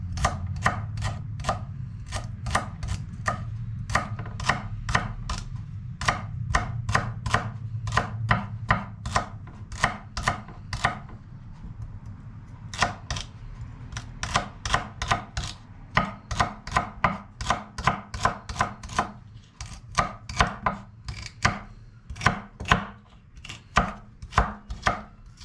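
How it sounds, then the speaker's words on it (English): Knife chops through celery on a cutting board in a long run of sharp, rhythmic strikes, steady at first, then pausing and resuming in quicker, uneven bursts. "That's what I cut so far. I'm also gonna put in the celery."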